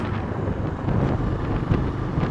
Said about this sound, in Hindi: एकदम तगड़ी ठंड हवा चल रही है